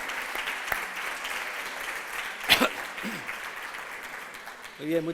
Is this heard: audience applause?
yes